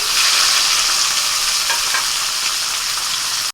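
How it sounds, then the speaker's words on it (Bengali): Steady, loud sizzling and crackling of bitter gourd frying in a hot pan, a continuous hiss with no voices. "করলা ভালো করে ভেজে নিয়েছি"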